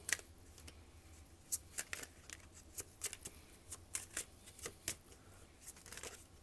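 Tarot cards being shuffled and drawn, a quiet series of soft, irregular flicks and slaps of card stock spread across the whole stretch.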